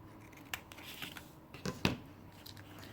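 Scissors trim a corner off a used paper gift bag, giving a few quiet crisp snips and rustles, with one sharper cut near the end, close and faint with no talk.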